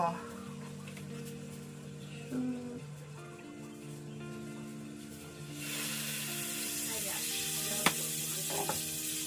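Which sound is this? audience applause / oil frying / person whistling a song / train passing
oil frying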